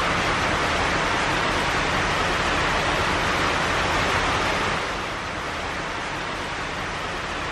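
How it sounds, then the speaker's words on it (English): Heavy rain pouring down as a dense, loud, steady roar of broadband noise, easing slightly near the end, with no voices. "it's raining properly"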